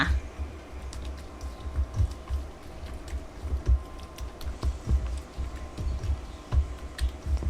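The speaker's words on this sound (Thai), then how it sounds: "คลุกเคล้าขยำขยำให้เข้ากันค่ะ" Shrimp cake mixture for Thai fried shrimp cakes, seasoned with salt, sugar and sesame oil, squished and kneaded by hand. A close, steady wet squelching and pattering runs throughout with no talk.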